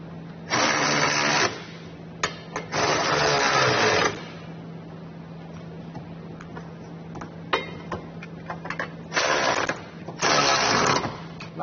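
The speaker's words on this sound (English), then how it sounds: "we can snug it down. So 21mm for those, and we'll use a 3/4 inch socket for our new hardware there" A power tool whirs in several bursts as a 3/4 inch socket drives new hardware on a Curt trailer hitch receiver being fitted to a 2022 Jeep, with short pauses between runs.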